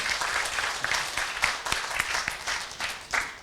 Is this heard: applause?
yes